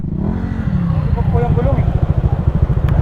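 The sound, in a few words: motorcycle engine riding over large rocks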